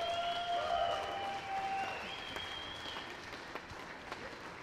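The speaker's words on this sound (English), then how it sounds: "round of applause, Nathan Lake" Audience applause at the 2025 Canadian Men's Squash Open in Calgary, cheering player Nathan Lake after his match; steady clapping fills the whole span at moderate level with a faint high tone running through it, no talk.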